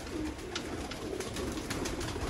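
Sialkoti pigeons kept as rooftop birds coo faintly in a few soft, low calls, nearly buried under a steady broadband hiss.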